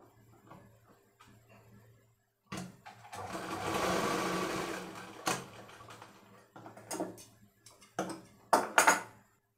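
A sewing machine stitching a dhoti pyjama runs in short close bursts, with one long steady whir in the middle and quick clattering spurts near the end, separated by quiet pauses.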